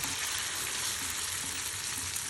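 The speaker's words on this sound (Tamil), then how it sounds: "கடாய் வச்சுருக்கேன். அதில் இப்போ முதல்ல கொஞ்சம் எண்ணெய் விட போகிறேன்." Ragi batter for a bun dosa frying in oil in a kadai, a dense, even crackling sizzle close by at moderate volume, with no speech.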